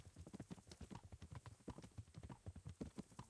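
Galloping horse hooves in the medieval game Kingdom Come: Deliverance, a fast, steady clip-clop rhythm of close, distinct hoofbeats continuing throughout with no talking.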